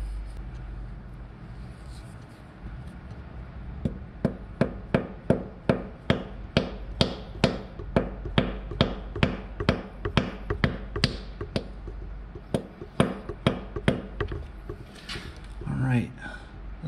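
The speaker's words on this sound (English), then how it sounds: "I'm just gonna bop it with my dead blow hammer to seat it in that bore" Rapid series of sharp, dull taps from a dead blow hammer seating a bicycle part into a bore, dozens of blows in an uneven rhythm, close by.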